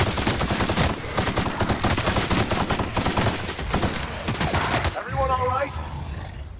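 Rapid gunfire crackles continuously through a firefight in The Outer Worlds, dense loud bursts lasting several seconds before easing into a quieter tail with a brief tonal ring.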